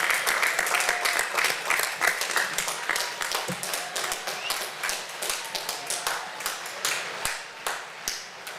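An audience at a 2021 joint commissioning ceremony for new Army second lieutenants applauds steadily, with dense, sharp clapping that holds at a fairly even level throughout and a few faint voices underneath.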